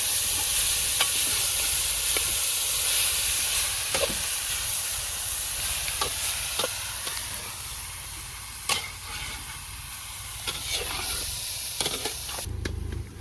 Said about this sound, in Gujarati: હવે સારી રીતે આપણે તેને હલાવી દઈશું